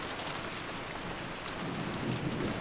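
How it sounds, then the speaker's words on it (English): Steady rain pours with a low thunder rumble building toward the end, a constant wash of sound from the video game Umineko When They Cry, with no talking. "It's raining. It's pouring."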